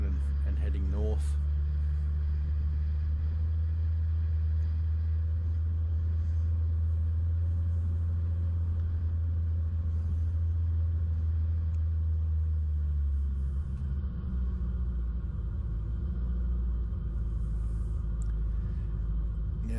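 A Mitsubishi Pajero drives across the Stockton Beach sand dunes, its engine and tyres making a loud, continuous low rumble close up throughout, with little change.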